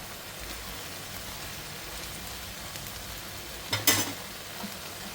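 Small fish (netthallu) dropped into a pan, a faint steady sizzle of frying with one brief louder splash-and-hiss burst near the end, no talking.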